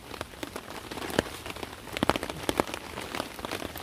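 Rain or hail falling outdoors in the bush on an afternoon, a steady dense patter on surfaces with scattered louder individual drops striking close by, heard alone without voices.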